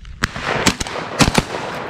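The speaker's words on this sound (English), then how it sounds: "Bad shot on it." A shotgun fires at doves during a public dove hunt: a few sharp, loud reports, one early and a closer pair later, over a steady outdoor background.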